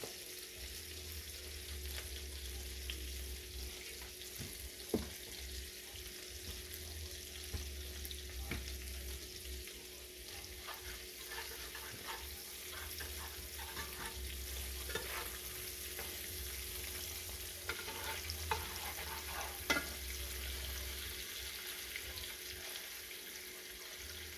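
Ribeye steak frying in a pan with rosemary and roasted garlic: a quiet, steady sizzle with occasional soft clicks and scrapes, heard alone without talk.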